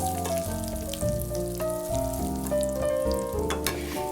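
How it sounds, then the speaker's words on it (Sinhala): One teaspoon of chili powder frying in about two tablespoons of hot oil for a spicy potato curry, a loud close sizzle with stirring scrapes throughout and no speech. "තෙල් ටික රත් වුණාට පස්සේ ඒකට මම මිරිස් කුඩු තේ හැඳි එකක් එකතු කරගෙන බෙද ගන්නවා"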